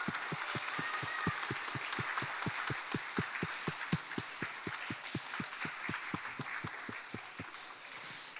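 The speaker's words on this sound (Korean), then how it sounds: "우리가 칠 수 있는 가장 힘찬 박수로 영광 올려드리겠습니다" A congregation claps in steady, rhythmic unison during a children's department church worship service, with evenly spaced claps running the whole time and no talking.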